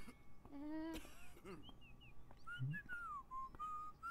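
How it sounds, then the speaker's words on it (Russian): A bird in the video game Beyond Eyes whistles a series of clear, sliding calls, some short and some drawn out, with a low cooing note in between, heard close against quiet ambience with faint talk. "у нас с тобой, видимо, опять какая-то пернатая сидит там, курлыкает"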